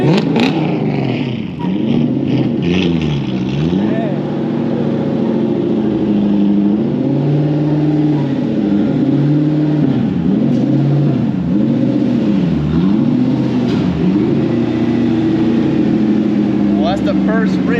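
A Nissan 240SX S13 with a swapped-in Toyota 1UZ V8 revs up and down in a repeating rise-and-fall pattern, loud and close, its idle surging between the blips.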